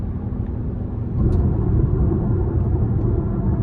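A 2024 Cadillac XT4 Sport AWD with a 2.0-litre turbo engine hums low and steady from inside the cabin, and the rumble swells slightly partway through as it downshifts.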